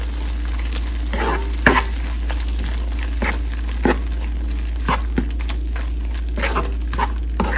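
Drumstick fry sizzles loudly in a pan with onion-spice masala and garam masala as a spoon stirs and scrapes it in a regular rhythm. The frying hiss stays close and constant under a low electrical hum, with no voices.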